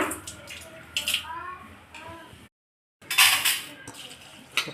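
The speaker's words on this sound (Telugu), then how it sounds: "ఈ బియ్యం ఇలా దానిలో వేసుకొని నీట్గా కడిగి నీళ్ళు చేసుకోవాలి" Raw rice is swished and rinsed by hand in water inside a vessel for traditional pongal, giving wet sloshing and clinks close up, with a brief gap and a voice heard over parts of it.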